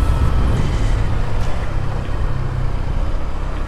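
A motorcycle engine running steadily, a loud continuous low rumble with wind noise, heard close up from a rider-mounted GoPro Hero6 Black, without talk.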